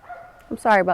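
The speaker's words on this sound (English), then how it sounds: "I don't think the dog is going to stop" A dog barks in short yips and a louder yelping bark near the end, close by, overlapping a person speaking.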